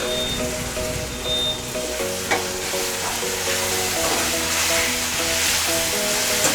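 Sliced sour tomatoes, three or four medium ones, sizzling and frying in a pan with turmeric for a dhaba-style tomato curry, a steady close crackle with stirring scrapes throughout and no talk.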